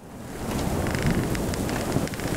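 Steady rain and rolling thunder in the horror video game Lunacy: Saint Rhodes, a dense continuous downpour with low rumbling throughout, loud and close with no talking.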